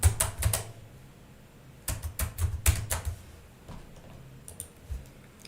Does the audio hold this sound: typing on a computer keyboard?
yes